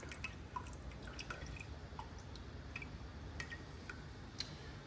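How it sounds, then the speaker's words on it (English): Liquid drains and drips from overcooked, mushy food in a home kitchen, with soft scattered droplets and small splats over a steady low background, fairly quiet and close. "I'm draining it."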